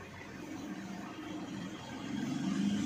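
An Isuzu Mu-X engine with a low-power fault and unstable fuel rail pressure idles with a steady mid-pitched hum that swells slightly toward the end as the rpm wavers.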